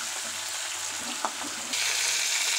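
Hot tempering (popu) for Andhra-style tamarind rice sizzles steadily in the pan, a continuous frying hiss with a small pop midway and a louder, brighter surge of sizzling in the final second.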